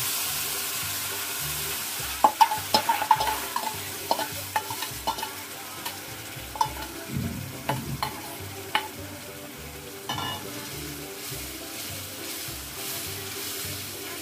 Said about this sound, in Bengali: এই যে কুটা মশলাগুলো ঢেলে দিচ্ছি।